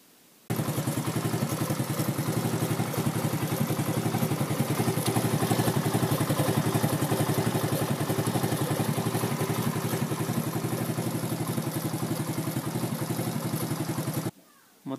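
A rebuilt small moped engine, a Racer with a 2V91W motor, runs steadily and loudly with a fast, buzzing rattle, holding an even idle for most of the clip before cutting off near the end.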